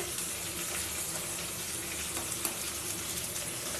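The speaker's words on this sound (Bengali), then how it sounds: "এদিকে ঝিঙা পোস্ত কড়াইতে থাক, ভাজা ভাজা হতে থাক" Ridge gourd coated in poppy seed paste fries in a wok, giving a constant, dense sizzling hiss at a steady level with a faint watery crackle underneath.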